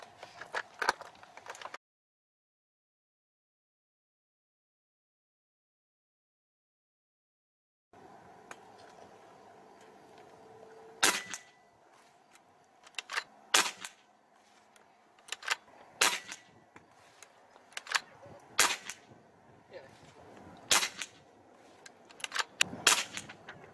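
A Hatsan Hercules Bully .25 PCP air rifle fires a series of sharp, snappy shots spaced a second or two apart, close and crisp, mixed with lighter mechanical clicks after a long stretch of silence.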